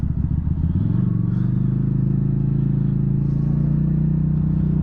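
A 2023 QJ Motor SRV300 motorcycle engine drones steadily up close, with a low pulsing note that rises slightly in pitch early on and then holds even.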